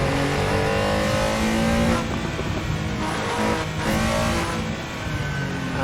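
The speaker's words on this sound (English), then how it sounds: "I do love the sound of this flat six." A flat-six engine in a stock car in the Assetto Corsa racing game, driven on a Los Angeles canyon road, revs loud and continuous throughout with rising and falling pitch as gears change, with no talk.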